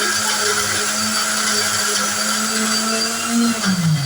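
A kitchen mixer grinder (mixie) runs steadily and loudly at a constant pitch, its motor whine shifting slightly near the end as the load changes while grinding spices.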